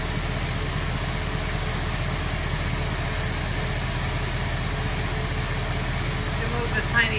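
A 1973 Ford Mustang convertible engine idles in drive at about 600 to 700 RPM, giving a steady, even low rumble with regular pulsing, close by and unbroken throughout.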